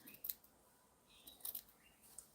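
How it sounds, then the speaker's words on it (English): Scissors snip away frayed edges of velvet fabric while a cloak is being sewn, several short quiet cuts in two brief clusters, alone with no talk. "Let's just trim off all that messy fraying."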